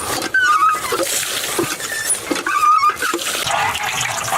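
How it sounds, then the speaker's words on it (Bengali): Rice being washed by hand in water for pulao, with sloshing, swirling and splashing in a pot or bowl, close and moderately loud, coming in uneven bursts. "এর জন্য চালগুলো ধুয়ে নেব।"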